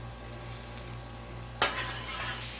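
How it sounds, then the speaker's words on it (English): Pizza sizzling on a griddle, a soft steady hiss with a brief scrape partway through, close and quiet with no talk. "you're stuck watching me griddle pizza again"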